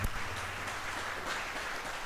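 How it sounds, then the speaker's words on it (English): Steady broadband applause from a conference audience at a business panel session, a dense even wash of many hands clapping with no pauses, moderately distant. "Let's give them a round of applause, and I mean a loud round of applause, please, for Lisa and Vince"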